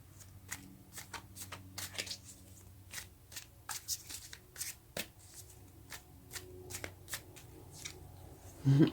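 A deck of tarot cards is shuffled by hand in quick, crisp riffling bursts with short pauses between them, close and fairly quiet.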